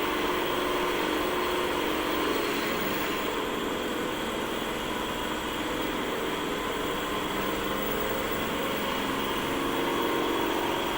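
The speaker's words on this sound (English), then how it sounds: "Start the DC drive, increase the voltage," A DC motor drive spun up to 240 volts on a rotating machine lab bench, giving a steady, continuous mechanical hum and whir with a broad hiss throughout, fairly loud and unchanging, with no talking.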